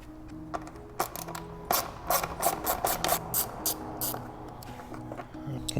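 A 3mm hex key works screws loose on an Aprilia RSV4 exhaust servo motor, producing scattered small metallic clicks, taps and ratcheting scrapes at close range, irregular and fairly quiet.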